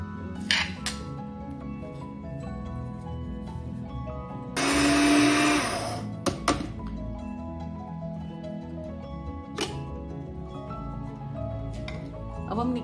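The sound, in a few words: grinder grinding whole garam masala spices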